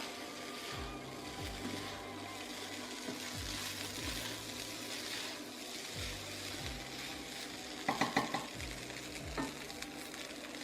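Shrimp nasi goreng stir-fried over high heat, a soft steady sizzle under repeated spoon strokes against the pan, with a short burst of metallic clatter near the end.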